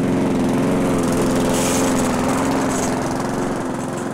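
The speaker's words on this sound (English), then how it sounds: "We may as well put the lawnmower over there while we're at it. It's very loud though" A lawnmower runs loud and close in the indie game A Good Husband, its engine droning steadily with a buzzing, slightly wavering pitch and no voices over it.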